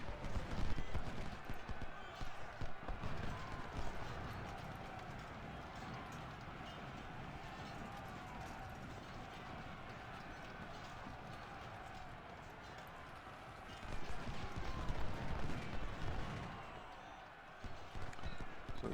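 Cavalry horses gallop in a Civil War battle game, a dense rumbling patter of hooves mixed with battle noise that swells louder near the end, with a voice speaking over it.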